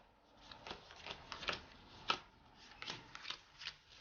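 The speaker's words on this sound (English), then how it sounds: "The next thing we do is deal out 4 cards to each player." Playing cards being dealt out four to each player for the card game NinjitZoo, a series of soft, quick flicks and slaps of cards landing on a table, close and quiet with brief pauses between.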